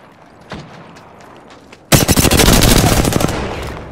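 Video game gunfire: after a quiet stretch with a few faint clicks, loud, close automatic bursts erupt and rattle on rapidly for about two seconds before easing off.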